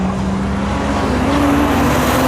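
Nissan 370Z and Audi drag racing cars accelerate hard, a loud, close engine roar with a steady tone slowly rising in pitch.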